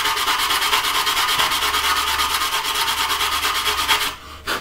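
Steady, continuous rasping abrasion of sanding a plastic 1/48 scale Su-27UB model kit part, close and loud, a dense scratchy scrubbing that keeps an even rhythm before briefly dropping off near the end.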